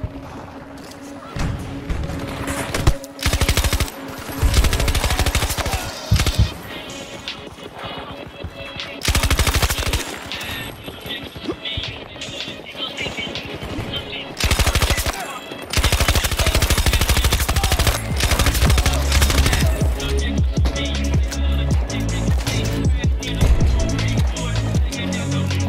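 Sustained automatic gunfire from the DFR Strife in the shooter game Battlefield 2042, loud rapid bursts and sputtering volleys broken by short pauses, with crashes and explosions mixed in and no speech.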